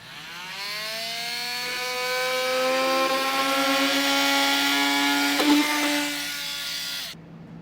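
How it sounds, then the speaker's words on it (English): Oscillating multi-tool cutting a thick plastic underbody panel on a 2016 Jeep Wrangler, a close buzzing whine whose pitch rises as it cuts, with a brief rough patch before it stops abruptly. "I like to use a multi-tool to cut this plastic"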